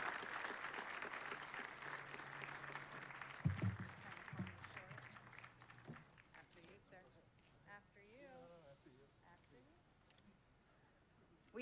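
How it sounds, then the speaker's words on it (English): An audience claps at a 9/11 memorial ceremony in Fresno, California, with steady scattered applause from a crowd, fairly faint and distant, under a voice speaking over it. The clapping fades out midway. "And as they come, continue clapping."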